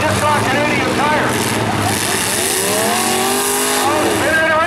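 Truck spinning around in a demolition derby heat, engines revving and wailing in rising and falling sweeps beneath a commentator speaking over a loudspeaker.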